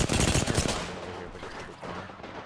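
Rapid bursts of gunfire in a first-person shooter, played with a speed pad: a dense volley of close, loud shots at the start, thinning into scattered reports over steady game noise.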